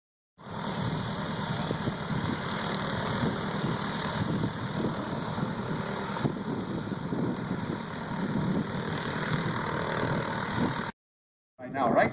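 Grumman Avenger aircraft radial engine at an air show, a steady, dense roar holding level for about ten seconds during takeoff, then cutting off briefly before returning loudly at the end.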